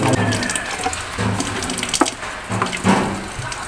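Dishes being rinsed under a running tap in a home kitchen sink after a big family meal, a steady stream of water with occasional clinks and knocks of dishware, close by.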